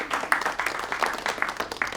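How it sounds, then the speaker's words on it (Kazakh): A stand-up comedy audience claps, steady scattered hand claps forming moderate, fairly close applause that carries through the whole moment without talk. "Кімде болады, шапалақ ұрып қойсаңыздар болады."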